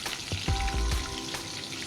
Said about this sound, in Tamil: இந்த மாதிரி லைட்டாக வறுத்து எடுத்தால் போதும்